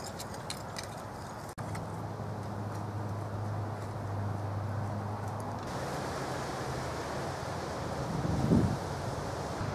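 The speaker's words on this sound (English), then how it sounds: "it's super, super windy and warm" Strong, warm wind buffets the microphone outdoors near planted beans and chickens, a continuous low rumbling roar, with a brief dropout early on and a gust swelling near the end.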